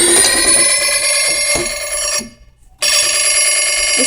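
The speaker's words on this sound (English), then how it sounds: "This kind of sounds more like a phone." A phone ringtone sound effect played from an app rings loudly and steadily, a bright electronic trill that cuts out briefly for a gap of silence before resuming.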